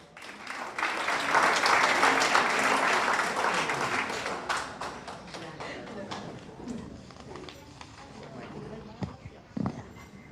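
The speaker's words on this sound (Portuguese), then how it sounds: "Forte aplauso." Audience applause swells at a creative arts and literature gathering, a dense crowd of clapping hands that peaks early, then thins into scattered claps and fades over about ten seconds.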